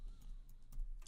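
Code typed on a computer keyboard, a few soft, sparse key clicks close by in a quiet room over about a second.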